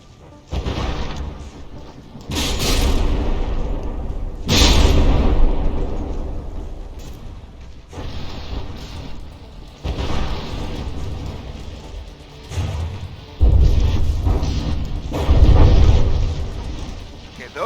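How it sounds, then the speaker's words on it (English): Cram mortar volleys in the From the Depths video game land on battleships as repeated heavy booms with rumbling tails, spaced across the span. Someone narrates over the explosions. "volley of cram mortars in, scoring some direct hits, but some of the shots actually still missing"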